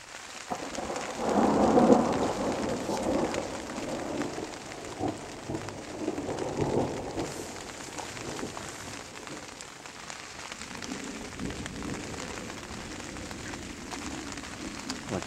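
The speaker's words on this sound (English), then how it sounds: "I guess we're really going to get our storm here." A heavy outdoor thunderstorm pours steady rain on the surroundings. Loud rolls of thunder rumble near the start and again around the middle, with no talking.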